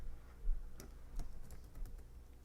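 A computer keyboard clicks softly in the background, with scattered light taps at an irregular typing rhythm and no voices.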